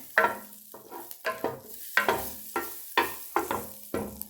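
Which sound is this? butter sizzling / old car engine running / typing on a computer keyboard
butter sizzling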